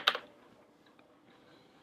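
Typing on a computer keyboard while writing Swift code in an iOS app project: a short burst of quick key clicks at the start, then quiet with a few faint taps.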